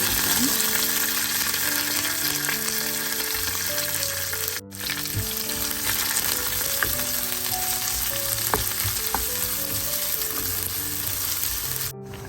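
Onions, mustard seeds and curry leaves frying in sesame oil in a pan: a loud, steady close-up sizzle with scattered crackles, running continuously apart from two very brief dropouts.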